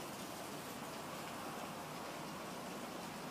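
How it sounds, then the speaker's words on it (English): Steady rain falls outside on a nasty day, a dense, constant hiss with no breaks, fairly loud and close, no voices. "since it's raining and nasty out"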